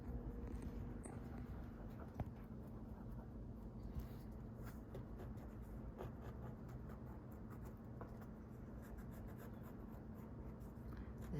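A pen steadily traces around a paper ornament template, a faint continuous scratchy drawing sound over low background hum, with no speech.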